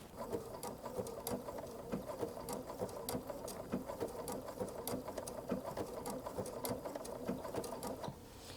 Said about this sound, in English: We're going to start stitching.